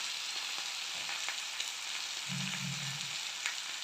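Meat masala, coriander powder, cumin powder and green chilli frying in hot oil in a pan: a steady, moderately quiet hiss of sizzling with occasional light pops and a brief low rumble partway through.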